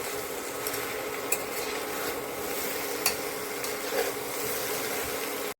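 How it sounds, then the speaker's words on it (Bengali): Young jackfruit is stirred as it fries in a pan, a soft continuous sizzle under the gentle scrape and rub of a spoon, with a few faint clinks against the pan. "কাঁঠালটা একটু নাড়াচাড়া করে দেই"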